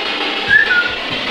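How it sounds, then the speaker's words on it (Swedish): A short, high whistle sounds alone, a clear rising-falling tone lasting under a second over a soft background hiss. "Vissling."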